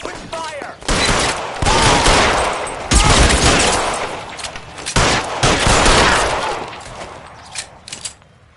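Gunfire in the video game L.A. Noire, dense bursts of rapid shots rattling loudly in long volleys with brief pauses between them.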